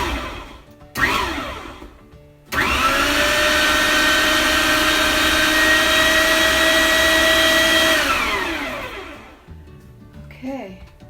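A kitchen blender roughly chops tomatillos for sauce in a loud, close whir that starts with two short pulses, then runs steadily for about six seconds before winding down, with brief talk at the end.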